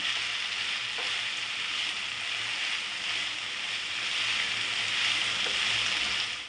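Pumpkin and chili vegetable sautéing with turmeric in a pan gives a continuous, even sizzle that stays steady throughout, with an occasional faint stirring tap.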